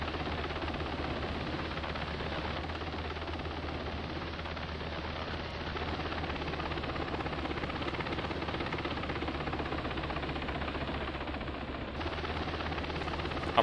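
A medevac helicopter comes in to land at a combat outpost, its rotor and engine producing a continuous low droning rumble that stays steady and fairly faint throughout, with no speech.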